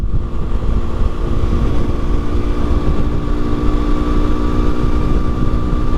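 FB Mondial HPS Ubbiali 125cc motorcycle, brand new engine, held at steady revs while riding on the road, a loud continuous buzzing drone with wind rush, close and unbroken.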